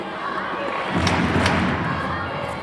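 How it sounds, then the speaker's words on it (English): A large crowd in a domed judo arena at the 2019 Düsseldorf Grand Slam sends up a dense, distant roar that swells after a moment, with a few dull thuds underneath. "Now you can hear this crowd there behind him all the way."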